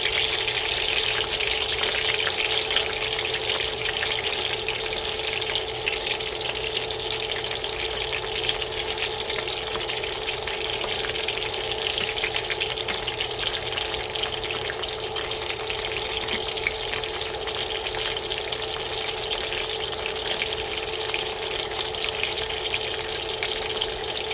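Beef frying in a pan for a crispy stir fry, giving a constant, fairly quiet sizzling hiss that holds steady for over twenty seconds with no voices.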